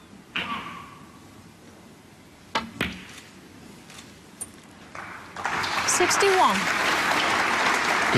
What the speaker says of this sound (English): Applause from the crowd for game ball.